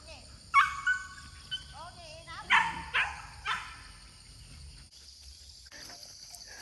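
A big, strong dog on a durian farm in Thailand gives a few scattered barks and whimpers, fairly close. Voices can be heard alongside.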